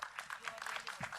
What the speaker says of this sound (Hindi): जोरदार तालियां हो जाए फॉर